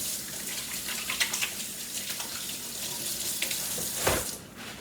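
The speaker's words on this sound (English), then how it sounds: "Now, I'm going to wash my hands really quickly." Tap water runs steadily while hands are rubbed and rinsed beneath it, with a few splashy surges and a brief louder gush near the end before the flow eases, close and alone.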